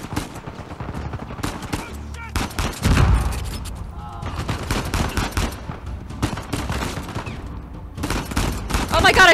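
Rapid gunfire bursts from the video game Uncharted 4 crackle repeatedly throughout, with a heavy boom near the start and a player's voice talking over the shooting.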